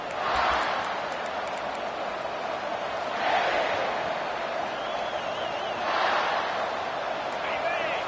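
Stadium crowd in a Madden college football video game, Gamecocks home crowd, a steady broad roar that swells in loud surges, with a commentator talking over it.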